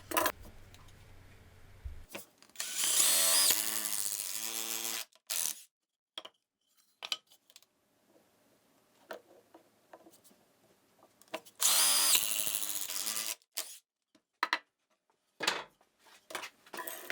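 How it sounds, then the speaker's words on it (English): A power drill whirs loudly in two long bursts as it bores 3/4 inch holes into scrap wood, separated by scattered knocks and handling noises. "then I'll drill a 3/4 inch hole in the center of them"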